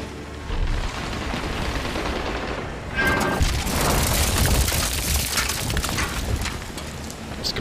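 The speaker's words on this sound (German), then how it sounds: "Das Gebäude stürzt ein." A building collapses in the video game Medal of Honor Warfighter, a loud, continuous rumbling crash of breaking debris amid gunfire, with a sharper burst of noise about three seconds in.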